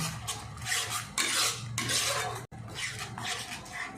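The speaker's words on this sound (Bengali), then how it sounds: "গ্যাসের ফ্লেমটাকে লোতে রেখে মশলাটাকে ভালো করে মিশিয়ে নেব" A spoon scrapes and stirs masala paste in a pan over a low gas flame while cooking prawns, making steady close scraping and clinking with a brief pause partway through.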